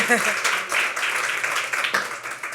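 An audience claps at a book presentation, the applause rising in uneven bursts of hand claps as voices talk over it nearby.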